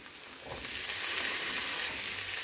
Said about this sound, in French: je vais faire revenir avec les oignons